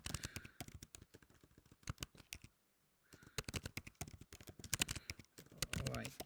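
Quick, uneven clicks from typing on a computer keyboard come in bursts with a brief pause, mixed in with a person talking nearby.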